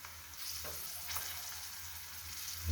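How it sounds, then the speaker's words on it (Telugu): Curry leaves dropped into hot oil in a pan for a prawn gongura curry give a soft, continuous sizzle and crackle, faint and close, with a few louder spits and no talk. "ఇప్పుడు కరివేపాకు వేసుకుందాం."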